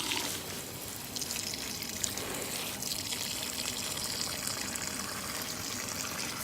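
Water runs steadily from a tap to soak SuperSoil substrate material, a continuous close trickling and splashing wash with no talk.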